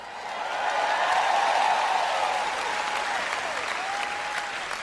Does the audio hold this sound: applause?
yes